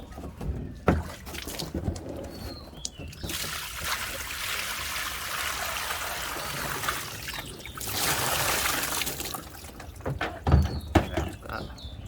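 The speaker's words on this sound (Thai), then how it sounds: "ดี๋ยวคุณยาเอาน้ำใส่ก่อนนะครับ" Water pours and trickles steadily for planting lotus at a monastery in Wang Nam Khiao, Nakhon Ratchasima, swelling in bursts with occasional splashes and knocks, while people talk nearby.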